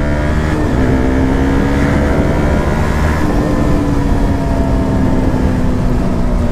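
A BMW S1000RR superbike engine roars continuously at full throttle, loud and close, with a deep, sustained bass drone and no pauses.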